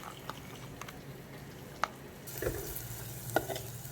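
Tamarind spice paste frying in a pan while being stirred, with a soft sizzle underneath and a few sharp spoon scrapes and clinks scattered through, growing busier toward the end.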